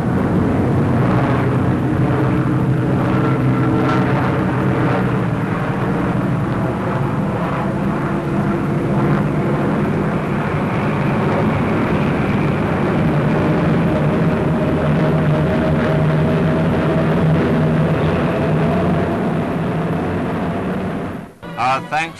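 RAF military aircraft engines drone steadily in a wartime newsreel from the Tunisian campaign, a loud continuous roar with rumbling bursts throughout before cutting off near the end.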